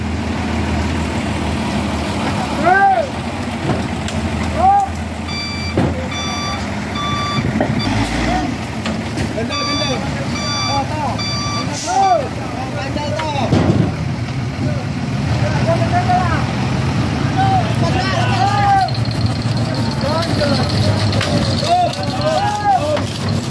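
A tow truck's engine idles and rumbles as it lifts a wrecked truck, with repeated reversing beeps and mechanical whines, while people talk nearby throughout.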